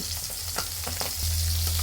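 Sarputi fish frying in hot oil in a pan, a steady close sizzle with a few crackling pops, swelling louder and denser in the last half second.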